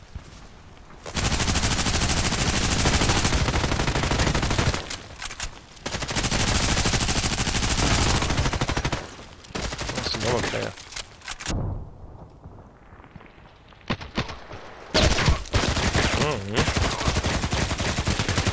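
Rapid bursts of gunfire from a PDR-C weapon in the Contract Wars shooter, loud and dense through most of the stretch with brief pauses between volleys and quieter gaps near the end.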